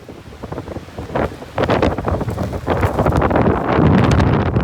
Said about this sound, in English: the wind's done a number on us today